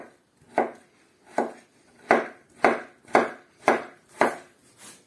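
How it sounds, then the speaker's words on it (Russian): A knife chops firmly through pumpkin in eight evenly spaced strokes, each a sharp crunching thud on a board, close and steady with no talk. "Вот так вот нарезаю тыкву и складываю в пакет."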